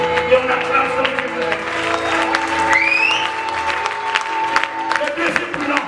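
A church congregation applauds and acclaims God during a service, steady dense clapping mixed with cheering voices and sustained tones behind it, loud and continuous throughout.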